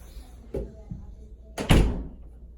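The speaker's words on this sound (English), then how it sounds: "Close this door." A door shuts with a solid thump, preceded by a couple of softer knocks and rattles nearby.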